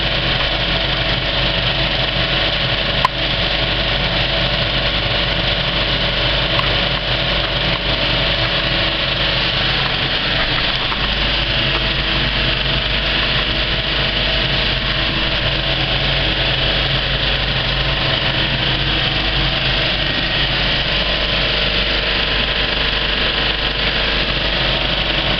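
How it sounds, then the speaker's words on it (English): A Kinoton FP30D film projector runs with its Speco LP270 platter system, giving a steady, unbroken mechanical whir and motor drone at constant loudness throughout, close and alone with no talk. "this is what a really well threaded up projector sounds like when it's running"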